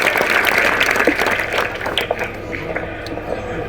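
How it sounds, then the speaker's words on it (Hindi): Crowd at a Haryana political gathering claps to welcome a speaker, a dense burst of applause that tapers off toward the end amid some background murmur. "जोरदार तालियों से स्वागत"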